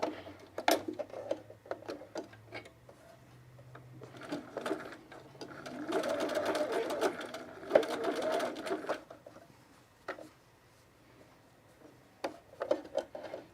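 A home sewing machine zigzag-stitches braided elastic onto underwear fabric, its needle chattering in several short runs and one longer steady burst, close up, with pauses and small clicks between passes.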